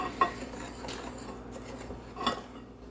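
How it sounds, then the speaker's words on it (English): Breaded pickles being mixed in a bowl with a utensil, giving a couple of sharp clinks of metal against the bowl over soft scraping and stirring, close and fairly quiet, with no voices. "And mix it up really good."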